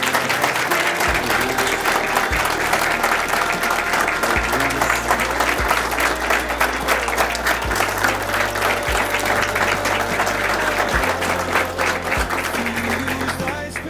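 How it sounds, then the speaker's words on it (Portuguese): Studio audience on a Brazilian TV programme breaks into sustained, loud applause to welcome guests, steady dense clapping filling the whole stretch with no speech over it. "vamos receber aqui os nossos convidados com uma salva de palmas"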